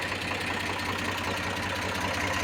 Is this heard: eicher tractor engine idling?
yes